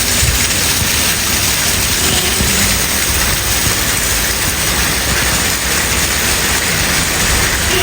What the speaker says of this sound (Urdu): یہ سامنے آپ کو بلڈنگز نظر نہیں آ رہی, اتنی تیز بارش ہے.